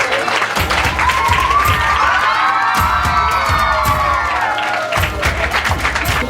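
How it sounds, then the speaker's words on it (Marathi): A crowd at a taluka marathon event cheers and applauds loudly and steadily, with shouts and whoops over continuous clapping. "जोरदार टाळ्या आमच्या मुकादम सर्वांसाठी."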